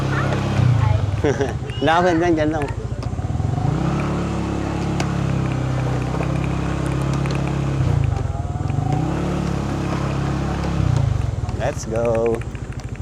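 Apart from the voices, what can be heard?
motorcycle riding into parking area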